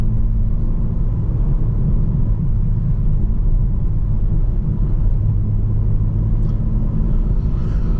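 A 2025 BMW M4 CS rolls over a rough, bumpy road, giving a steady, loud low rumble of tyres and cabin road noise that holds unbroken throughout.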